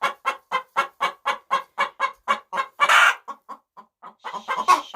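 Backyard chickens cluck in a steady run of about a dozen evenly spaced, close calls, then a louder squawk and a few looser, more scattered clucks, with no talking.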